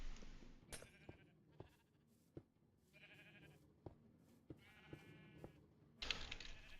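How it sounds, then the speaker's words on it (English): Sheep in the game Minecraft bleat several times in short, wavering cries spread across the clip, each clear and close, with soft clicks and game noise between them. "Oh, I can see the sheep in there better now."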